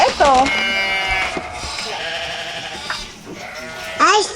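A voice mimics a goat's bleat with wavering, quavering cries at the start and again near the end, loud and close, while a toddler's animal-naming game carries on around it.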